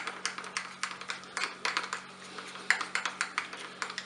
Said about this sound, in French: Je vais mettre la moutarde avec le boursin. Je vais mélanger.